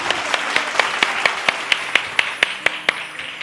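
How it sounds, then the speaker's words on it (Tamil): A church congregation claps hands in unison, about a dozen sharp, evenly spaced claps at a steady rhythm, fairly close and loud over faint background murmur. "கைத்தட்டுங்க, ஆமென்"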